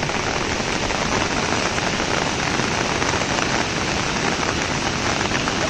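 Heavy rainwater pours and gushes steadily in a continuous loud rush as runoff from an orchard flows down toward a well.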